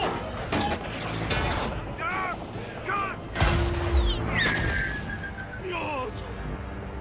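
Heavy Tiger and Sherman tank cannon blasts boom amid rapid gunfire and whistling shells, with shouting Spanish voices mixed through the chaotic battle noise of a war film.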